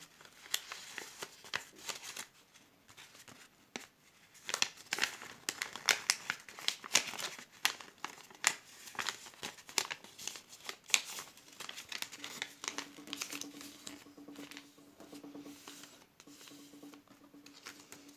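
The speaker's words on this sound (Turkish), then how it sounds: "Şimdi şu kenarlarını ortaya doğru katlıyorum." Paper is folded into an origami box, giving close, quiet crinkling, rustling and soft creasing taps that come and go in irregular bursts with no voice.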